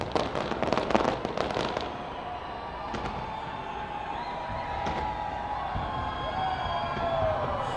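New Year fireworks show at Sky Tower in Auckland, with a rapid cluster of loud bursts and crackles at first, then scattered booms and crackling against a steady background of distant crowd noise.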